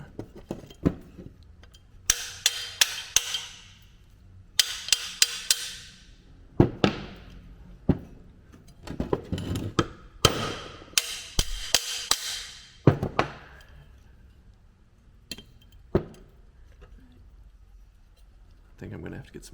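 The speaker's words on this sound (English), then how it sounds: "Then you tap that out with a hammer." Hammer tapping a part out of a VW Beetle pedal assembly, a series of sharp metallic strikes in irregular bursts, some in quick clusters, close by with someone talking between the blows.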